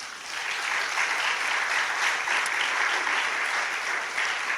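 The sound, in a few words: congregation applause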